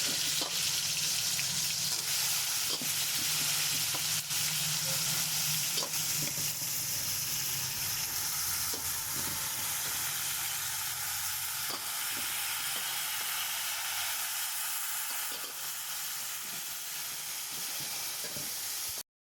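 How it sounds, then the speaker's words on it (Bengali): Steady, loud sizzling of pineapple frying in hot oil with chili tempering, with occasional stirring clicks throughout. "আমি এই যে আনারসটা এইভাবে ফোড়ন লঙ্কা তেলে কষে নিই"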